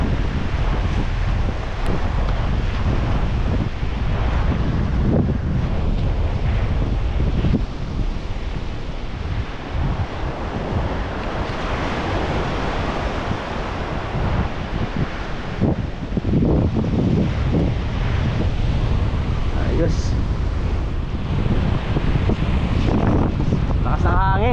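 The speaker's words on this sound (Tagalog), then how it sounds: "Lakas ng hangin, grabe, lalaki pa ng alon." Strong wind buffets the microphone in a constant roar while big waves crash and wash along the shore at sunset during fishing, loud and unbroken throughout.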